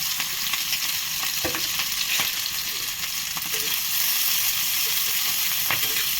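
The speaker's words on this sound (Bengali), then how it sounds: "লঙ্কা, পেঁয়াজ, রসুনটা পরিমাণ মতো ভেজে নেব" Chili, onion and garlic fry in hot oil in a heated wok for a shehdol chutney, giving a steady, close, loud sizzle with scattered stirring scrapes and clicks throughout, without talk.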